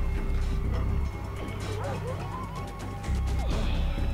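A dog barks and yips in the jungle combat of the video game Far Cry 3, several sharp barks in a loose rhythm under steady loud engine and action noise.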